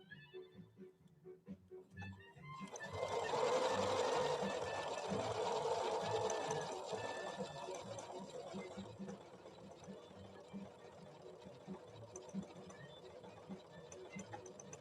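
A Janome Memory Craft 7700 QCP sewing machine stitches a decorative pattern in a workshop, a steady, fairly loud mechanical whir with rapid ticking that starts after a few seconds of quiet clicks and runs on alone to the end.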